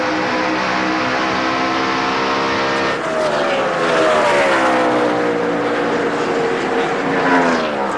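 NASCAR stock cars race at speed a few car lengths apart, their loud, sustained engines roaring with rising and falling pitch as they sweep past, with a steady drone throughout.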